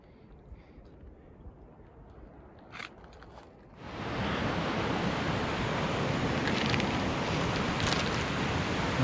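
Creek water flowing at Lyle Creek in Lyle Canyon along the John Muir Trail: a faint outdoor hush swells after about four seconds into a steady, loud, broadband rush that continues without a break.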